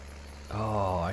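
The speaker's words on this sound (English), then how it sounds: "I had stereo tractor sounds in my headset." Tractor engine in the video game Farming Simulator 19, a low droning hum that swells abruptly halfway into a louder, tonal revving growl, heard alone for about a second.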